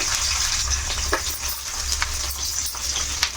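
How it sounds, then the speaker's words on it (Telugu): Green chilies crackle and sizzle in hot oil for a tomato-coriander chutney, a steady close frying hiss broken by a few sharp pops, with no voices. "ఇప్పుడు పచ్చిమిర్చి అలా ఇడుచుకుని వేసుకోవాలి, లేదంటే పేలుతాయి"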